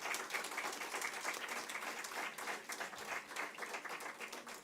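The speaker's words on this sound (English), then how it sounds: "Let's put our hands together to applaud all the deserving winners." Audience applause at a university degree distribution ceremony honouring award winners, a dense, steady wash of many hands clapping throughout with no speech over it.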